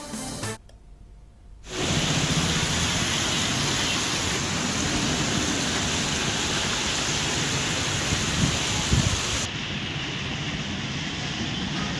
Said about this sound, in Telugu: గత 2 రోజులుగా నగరంలోని వివిధ ప్రాంతాల్లో మోస్తారు వర్షాలు కురుస్తున్నాయి.